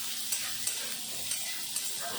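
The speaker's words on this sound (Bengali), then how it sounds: "একটু সময় ভাজার পরে দিয়ে দিলাম কুচানো পেঁয়াজ। পেঁয়াজও একটু ভেজে নেব।" Chopped onion, garlic, ginger and green chilli frying in hot oil in a pan, a steady dense sizzle with a few soft stirring scrapes, close and continuous.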